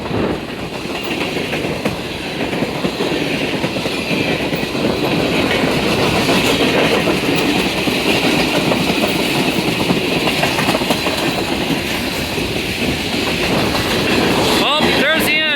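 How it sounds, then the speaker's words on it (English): A westbound CN manifest freight train with a big lashup of hard-working diesel locomotives rolls past, a loud, continuous roar of rumbling wheels and rattling cars with clicking rail joints near the end. "Those locomotives are sure working hard."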